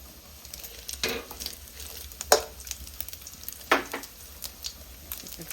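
Food stir-fried in pork lard gives a soft, steady sizzle, with a few louder scrapes and stirring bursts spread over several seconds, close by and fairly quiet, with no talking.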